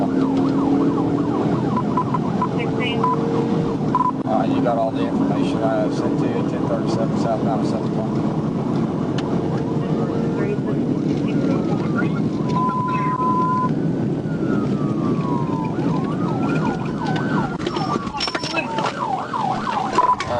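A police siren wails, rising and falling through the clip during a pursuit, heard over steady engine and road noise while a voice talks over a police radio.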